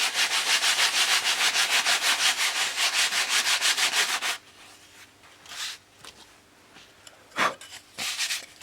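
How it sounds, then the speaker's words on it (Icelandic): Glued plywood panels for a Bellanca Decathlon wing are sanded with rapid, rhythmic rubbing strokes for about four seconds, followed by quieter scattered scrapes and handling noises. "og pússar aftur"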